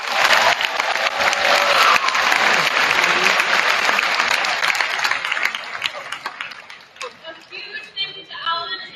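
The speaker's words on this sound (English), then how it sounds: "Let's give a big round of applause." An audience at a school Sadie Hawkins assembly claps, a loud, dense burst of applause with some cheering that slowly thins out into scattered claps and crowd chatter.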